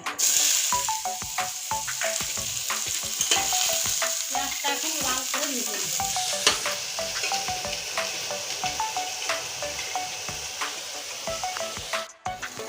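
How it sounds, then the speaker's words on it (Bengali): Chopped onion hits a pan of cumin already fried red in oil for a masala corn dish, giving a loud, steady sizzle with scraping stirs throughout and no talking. "জিরেটা লাল করে ভেজে নিয়েছি এখানে আছে কুচানো পেঁয়াজ এটা দিয়ে দেবো"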